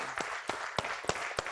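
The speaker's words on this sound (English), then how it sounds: "give another round of applause to Brad" Sparse clapping from a small audience at a corporate presentation, with a few distinct hand claps spaced about every third of a second over a soft roomy background.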